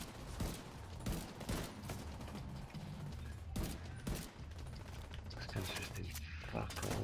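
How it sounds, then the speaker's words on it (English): Rapid gunfire in the video game The Division 2 during co-op play, with dense automatic bursts and repeated sharp shots rattling throughout, loud and close, while players talk over the shooting. "Who the fuck is shooting me?"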